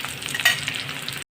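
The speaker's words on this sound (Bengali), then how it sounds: "এবার আমি এতে ছোটো ছোটো করে কেটে রাখা বেগুনগুলো দিয়ে দেবো" Small chopped eggplant pieces frying in hot oil with egg in a pan, a bright, steady close sizzle that cuts off abruptly just before the end.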